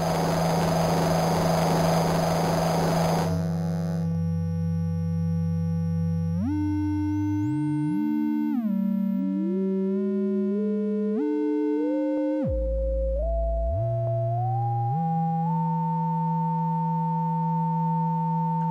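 Eurorack oscillator signals combined by subtraction through a DU-INO Arduino shield: a buzzy tone gives way to clean sine-like pitches that step up and down in stages, with a deep low dip near the end, loud and alone.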